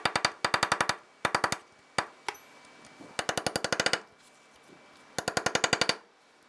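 A small punch being hammered to open the staking on the passenger CV axle nut of a 2003-2011 Honda Element, loud close bursts of rapid sharp metallic taps in quick groups with brief pauses between.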